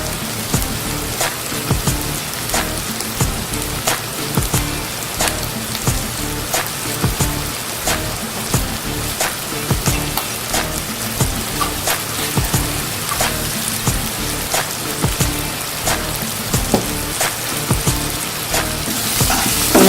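Spice masala frying in a pan for moong dal, a steady dense sizzle with continuous crackling pops, close and fairly loud throughout, no voices.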